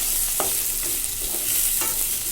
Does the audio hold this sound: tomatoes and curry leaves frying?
yes